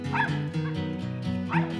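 During a hunt, a hunting dog faces a fox squirrel up in a big tree and gives yipping, whining barks, close and steady, over a constant low background hum.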